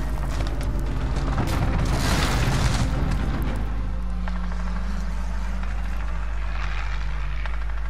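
Call of Duty airstrike explosions booming and rumbling in dense, loud bursts over a constant low roar, fading into a steadier drone after a few seconds, with no talk.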